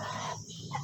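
Free-range village hens cluck in short, close bursts, with a little background murmur around them and no one speaking.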